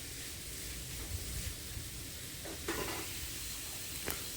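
Carrot burfi mixture stirred in a pan, faint and distant, with a few soft scraping strokes under a constant hiss and sizzle and no talking.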